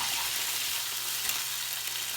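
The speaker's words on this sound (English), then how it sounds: "once the chicken's added and once the pan gets a little hot, we're going to cook it for about 2 to 3 minutes on each side" Stuffed chicken sizzles in a hot pan after being flipped, a steady, close frying hiss with faint crackles and no talking.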